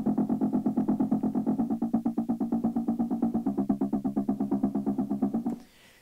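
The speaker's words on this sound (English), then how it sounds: "You just get a nice like metal sounding, like a really small reverb." A repeated, pulsing tone processed through a short, metallic-sounding small-room reverb with minimal decay, giving a tight ringing, distorted texture that runs steadily for several seconds before cutting off.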